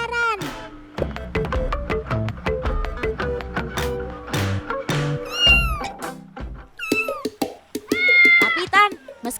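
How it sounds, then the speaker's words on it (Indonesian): A domestic cat meows repeatedly in rising and falling calls, close and clear, with several distinct meows and a short caterwaul-like stretch amid occasional thumps and taps. "sobat totan yang seperti ini disebut kucing domestik karena dipelihara dan memiliki tempat tinggal"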